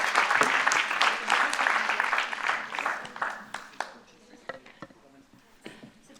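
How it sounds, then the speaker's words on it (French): Audience applause for the speakers of a panel discussion, a burst of many hands clapping that starts fairly strong, then thins out and fades into scattered claps over a few seconds. "je vous propose d'applaudir nos intervenants et intervenantes"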